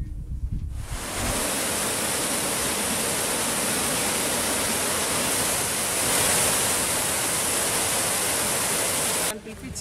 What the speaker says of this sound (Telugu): సాధర్మాట్ కెనాల్ గేట్ ని ఓపెన్ చేసి కాలువ ద్వారా రైతుల పొలాలకు నీటిని విడుదల చేశారు